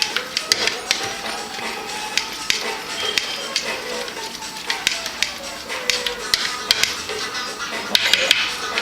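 Meatloaf mixture being stirred together with hickory brown sugar barbecue sauce, giving a steady wet scraping and squelching with sharp clicks and taps of the utensil against the bowl throughout, close and fairly loud.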